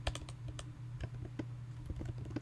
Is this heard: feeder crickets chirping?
no